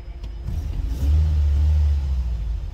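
The engine of a used Chevrolet Cobalt runs close by, a low, steady rumble that swells as it revs briefly and then settles, with no talking over it.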